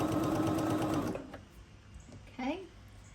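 A domestic sewing machine stitching a quilt block, a steady close whirring hum for about a second before stopping, followed by quiet room tone and a brief voice.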